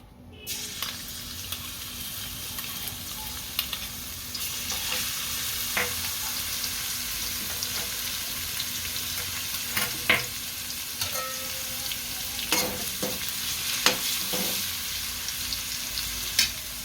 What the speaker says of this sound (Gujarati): આપણું તેલ ગરમ થઈ ગયું છે, આમાં લસણ નાખી દઈશું